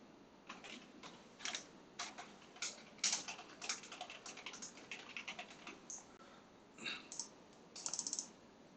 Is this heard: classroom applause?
no